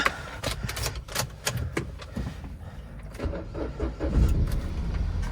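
A cheap used car's engine cranks and starts, with clicks and whirring at first and then a rising rumble that swells toward the end, heard close up.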